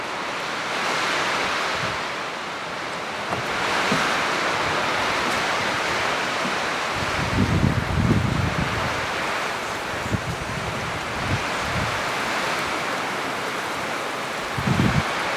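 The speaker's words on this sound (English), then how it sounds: "Look at this rain." Heavy rain falls outside a tiny house in a dense, continuous hiss that swells in places, with some low thumps of dripping or gusts and no talk.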